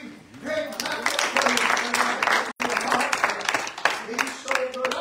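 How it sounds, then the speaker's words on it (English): A church congregation claps together during an evening service, a loud continuous burst of hands with voices and music-like tones running through it and a brief cut near the middle. "would you give him a big hand clap?"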